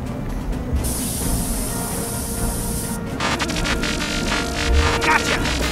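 In the Cloudy with a Chance of Meatballs PC game, a steady hiss of spray bursts out for a couple of seconds, then gives way to a busier, crackling hiss with scattered clicks.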